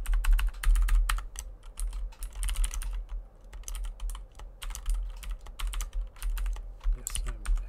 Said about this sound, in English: Yes, I'm excellent at typing.